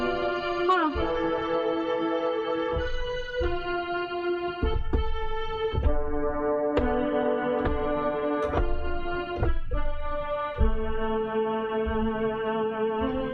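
Kawai beginner keyboard with vibrato and chorus switched on, playing a continuous sustained melody with wavering, shimmering tones and gliding note changes, steady and close with no talking over it.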